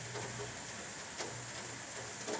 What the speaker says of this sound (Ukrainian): Дощ, бачите, по асфальту лупашить.